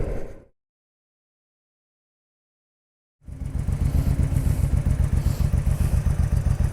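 A Honda Shadow 1100 motorcycle engine runs while the bike is ridden, a steady, loud, low pulsing throb with wind rush, starting after a brief sound and a few seconds of silence.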